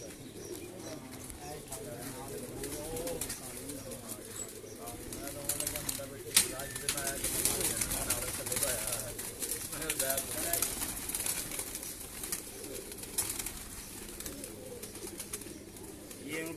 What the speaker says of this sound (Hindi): ये बड़ी ब्रीडर कबूतरी है जिससे आगे नस्ल बनी हुई है